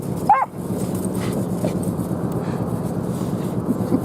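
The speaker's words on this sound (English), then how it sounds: "Oh, you poor little dog." A small dog gives a single short, high whimper near the start, then only steady background noise continues with no voices.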